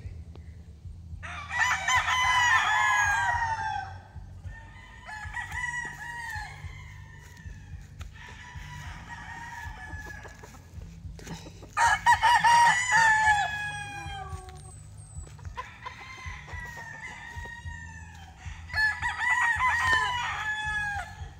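Roosters crow in several loud, drawn-out calls with chickens clucking between them on a rooster farm, over a steady low hum in the background.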